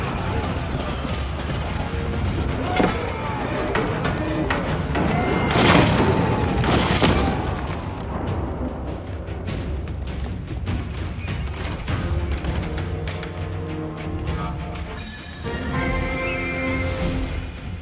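A barrage of gunfire and explosions sounds during the assault on Fancheng fortress in an Age of Empires 4 Mongol campaign cutscene. Deep booms and crackling volleys roll continuously, peaking with heavy crashes midway, then give way to lighter clatter and lingering rumble.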